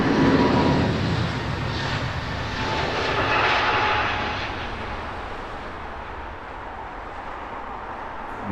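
A Virgin Dreamer airliner turning on the ground at Heathrow Airport, its engines producing a steady broad roar that swells slightly and then eases, continuous and fairly close with no talk.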